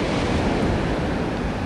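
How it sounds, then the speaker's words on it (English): Rough surf at a beach at Fort Morgan roars continuously, a broad, loud wash of breaking waves mixed with wind buffeting the microphone. "It's hard, these waves the way they are"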